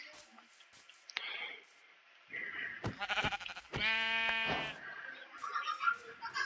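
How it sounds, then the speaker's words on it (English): Brown sheep in the Minecraft video game bleating in short wavering calls, several bursts across the clip, fairly close and clear with no talk. "There's a brown sheep."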